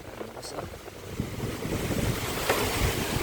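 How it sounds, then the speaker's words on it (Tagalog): Large sea waves surging at the shore at night during a super typhoon, a dense roaring wash mixed with strong wind buffeting the microphone, loud and continuous. "Kasi sa gabi nalaki ang halon eh."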